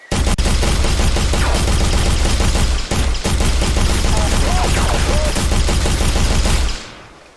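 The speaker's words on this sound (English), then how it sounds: "It's definitely machine gun type of fire." Rapid, sustained automatic machine gun fire in an Unreal Engine 5 video game rattles nonstop at high volume, with a brief break near the middle, then cuts off abruptly at the end.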